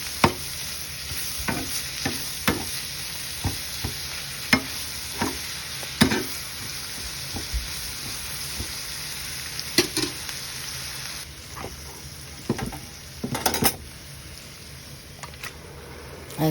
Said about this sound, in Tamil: அதில் வெங்காயமும் போட்டு தேவையான அளவு உப்பு போட்டு அது நல்லா பெரட்டி விடுங்க.